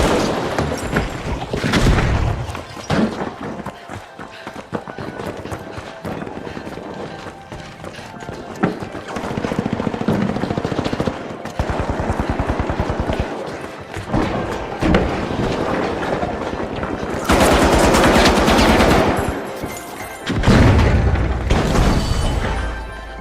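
A frag grenade and gunfire in an arena video game, with dense repeated shots, booms and explosions at a loud, continuous level, without talking.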